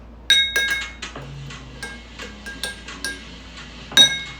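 Ice clinking against glass as an Old Fashioned made with rye, bitters and simple syrup is stirred, a series of bright, irregular clinks and knocks close by, with no talking.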